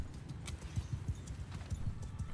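Faint hooves of a lone horse archer's mount in the game Mount & Blade 2: Bannerlord, a steady clip-clop gallop rhythm heard from a distance throughout.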